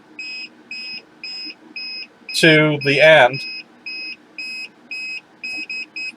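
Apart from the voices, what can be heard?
metal detector beeping near gold ring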